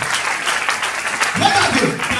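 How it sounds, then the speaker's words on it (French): A church congregation claps and cheers loudly in a continuous wash of applause, with voices rising through it toward the end. "Acclamons très fort pour Jésus."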